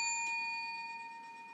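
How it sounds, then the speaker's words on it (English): A bell rings once and its clear, steady tones hang and slowly decay, faint and alone without voices. "Yes, it's a bell."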